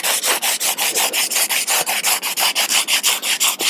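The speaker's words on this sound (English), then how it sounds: "So the first step here is basically to sand this down and get all this excess resin off." Sandpaper of 80 grit scrubs excess resin off a surfboard in fast, even back-and-forth strokes, roughly five per second, loud and close with a harsh rasping texture and no talking.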